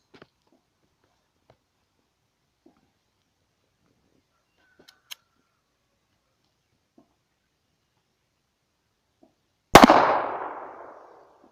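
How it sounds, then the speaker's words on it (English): .380 pistol fired at a homemade riot shield: near silence with faint small noises, then one loud, sharp report that rings out and fades over about a second. "we'll shoot the 380 at it, see what happens"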